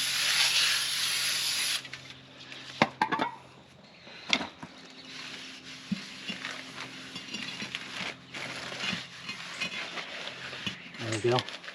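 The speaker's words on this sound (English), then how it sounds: "So we just spray a little brake clean and get it all off." Brake cleaner sprayed from an aerosol can onto new brake rotors, several hissing bursts of spray with short pauses between, close by, mixed with clicks and handling noises and with someone talking at times.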